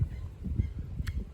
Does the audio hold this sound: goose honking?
yes